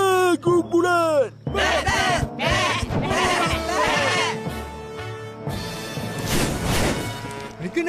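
A small herd of goats bleats close by, several wavering calls overlapping, with some clattering and thumping in between.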